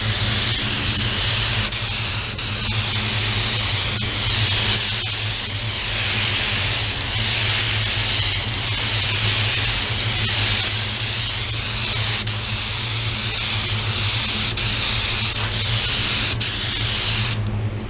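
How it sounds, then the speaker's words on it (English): Spray gun laying a double drop coat of paint on a car panel, a loud continuous hiss of air and atomised paint at close range, steady throughout with brief trigger pauses. "The release of the trigger is so key because that's gonna stop the overspray here, that's gonna stop the overspray there."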